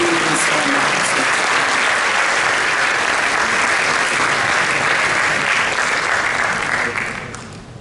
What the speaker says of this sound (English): Please give a big round of applause to Matthew Emmanuel Ong.